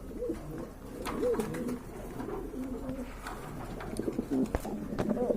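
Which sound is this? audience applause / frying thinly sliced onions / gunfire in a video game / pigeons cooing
pigeons cooing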